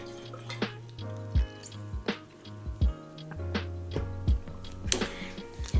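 A cup filling from a refrigerator's built-in filtered water dispenser, close and fairly quiet, with an uneven run of drips and splashes and small clicks, no voices.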